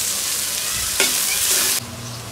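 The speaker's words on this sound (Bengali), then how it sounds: "পেস্টটা ভালো মতো একটু ভেজে নিব।" Bengali spice paste of cumin, bay leaf and garam masala frying in hot oil for a chicken curry, a steady close sizzle with stirring that flares louder midway, then settles as the paste cooks.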